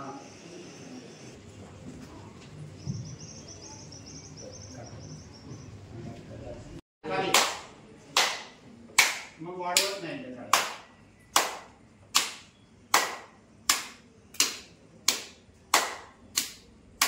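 A group doing yoga on International Yoga Day at a school claps overhead in unison, about a dozen sharp, evenly spaced claps following a stretch of soft speech and a brief pause.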